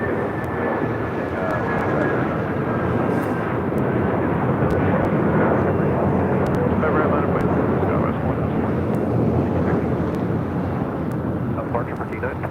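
Airliner engine roar at LAX, with an Asiana A380 on the south side, a loud steady broadband rumble lasting throughout, with a faint voice over it.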